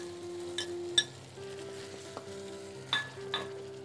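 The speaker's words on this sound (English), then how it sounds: "So we'll add the coarsely blended spinach and coriander paste to the onion tomato masala" Coarse spinach and coriander paste cooks into a frying onion-tomato masala for sarson ka saag, a faint sizzle with a few light clinks of a spoon against the pan over soft background music.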